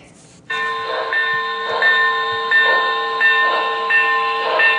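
A model train runs steadily on a holiday train display, a continuous rolling rumble with periodic rhythmic clacks and sustained bright chiming tones, fairly loud and close with no talking.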